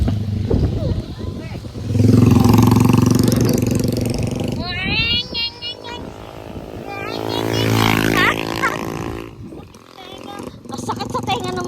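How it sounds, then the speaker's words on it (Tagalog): Motorcycle engines roar and rev loudly nearby near Palaypay Falls in Pamplona, swelling and fading as they pass, with people talking and exclaiming over the noise. "Masakit sa tenga ng mga motor nila."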